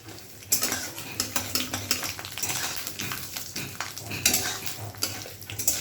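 Light frying in a pan for a mung dal and bottle gourd greens dish, with busy stirring: repeated clinks and scrapes of a utensil against the pan over a steady sizzle, close and fairly loud.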